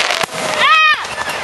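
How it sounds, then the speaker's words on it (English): Fireworks at a show go off in a short burst, a sharp crackle followed by a rising whistling squeal, loud and close, with people talking over it. "Fireworks again."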